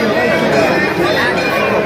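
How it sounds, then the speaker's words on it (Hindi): Dense crowd chatter at Harsiddhi Shakti Peeth temple at night, a steady babble of many overlapping voices close around, continuous and fairly loud with no single voice standing out. "कितनी भीड़ है यार यहाँ पे।"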